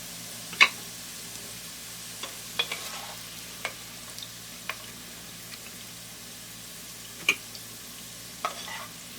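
Taro root pieces frying in hot oil, a soft steady sizzle with scattered sharp pops and occasional stirring clicks, close and moderately quiet with no talking.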